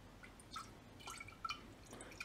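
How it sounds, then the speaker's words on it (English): Prestone 50-50 pre-diluted coolant poured into a jar gives faint, scattered drips and small liquid splashes, quiet and close, with no talking. "And we are going to pour this coolant into the jar."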